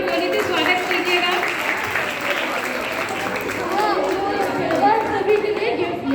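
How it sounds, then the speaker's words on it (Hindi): An audience claps to welcome performers onto a stage, a dense steady wash of applause mixed with crowd chatter and some voices throughout. "एक बार जोरदार तालियां मैंने बोली थी, स्वागत कीजिएगा।"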